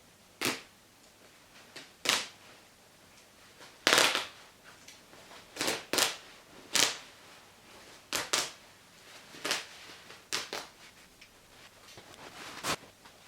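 Scissors snipping khaki jacket fabric during a clothing upcycling job, a series of crisp, close, irregular cuts and clicks spaced about a second apart, no voices.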